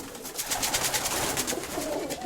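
A loft full of pigeons keeps up a continuous low cooing and rustling, several birds calling at once from close range, with no speech.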